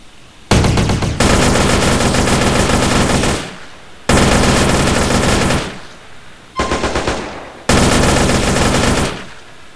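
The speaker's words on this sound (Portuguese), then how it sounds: "Pegar a metralhadora aqui." Machine gun fire in GTA San Andreas comes in four long, loud sustained bursts separated by short pauses, with no talk over it.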